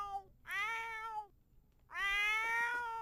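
A cat meows in The Sims 4, two drawn-out, clear meows separated by a short pause, close and alone with no talk over them.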